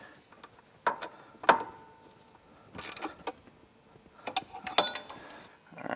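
A ratchet wrench clicks in short, separate bursts as it tightens a bolt on a Polaris Sportsman clutch, close and fairly quiet, with pauses between the strokes.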